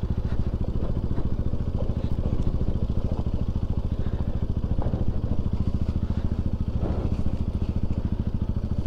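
A motorbike engine runs steadily up close with a rapid, even pulsing throb and some clatter as it rides over a rough, difficult village road, continuous and loud for the whole stretch.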